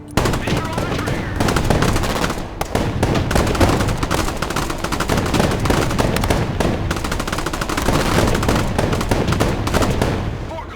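A dense, continuous barrage of machine-gun and rifle fire crackles loudly throughout a battle in the Broken Arrow game, with dry, rapid bursts overlapping almost without a break.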